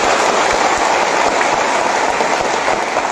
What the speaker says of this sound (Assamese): এটা বিশাল হাত চাপৰি মাৰিবলৈ অনুৰোধ কৰিছোঁ